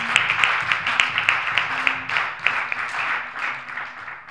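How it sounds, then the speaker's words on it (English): Congregation clapping hands in praise during a church service led by a preaching apostle, a steady run of overlapping claps with hand-clap bursts spread evenly throughout, fairly loud and close. "clap your hands and give them praise this morning."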